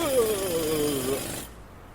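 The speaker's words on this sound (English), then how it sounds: "You can drill a hole in the mountain with this, right through to where the mead is." An auger boring a hole into a mountain whines with a gliding, slightly falling tone over a rough grinding texture, then cuts off abruptly, leaving near silence.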